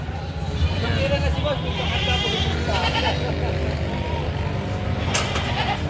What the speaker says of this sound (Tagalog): Ito yung pinakamalaking kambing na dumating ngayong araw ng Biyernes.